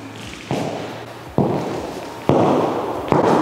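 Brand new Freed pointe shoes striking a floor, heard as four loud, hard knocks spaced about a second apart, each with a short ringing decay in a room.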